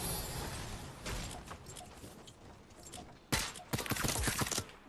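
Rapid gunfire bursts in Fortnite Battle Royale crackle in dense volleys, easing briefly in the middle before a louder, sharper flurry of shots near the end.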